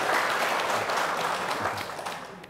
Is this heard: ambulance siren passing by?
no